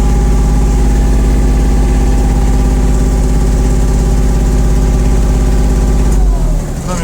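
A Kubota GL260 mini tractor with an enclosed cab runs at a steady idle, its loud, even engine drone holding close and constant before dropping off in the final second.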